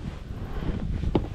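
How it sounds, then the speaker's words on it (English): Wind buffets a microphone on an open Saturn 12-foot heavy-duty fishing boat out on the water, a low steady rumble with a sharper gust near the end. "It's very windy out here."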